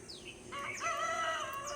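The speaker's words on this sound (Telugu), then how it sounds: "కోడి పుంజుల మేల్కులు అంటే అలారం టైప్ అనమాట" A rooster crows once at dawn, loud and close, its long drawn-out call filling the moment.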